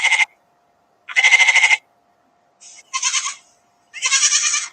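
A played recording of bleating sheep, with some goat calls mixed in, gives five loud, near, wavering cries separated by brief silences, each bleat buzzing and tremulous.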